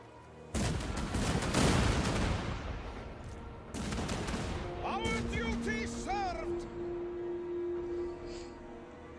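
Cannon and musket volleys boom in a dense, loud barrage during a Total War: Warhammer 3 battle, easing after a few seconds into scattered shots, with someone talking over the later part.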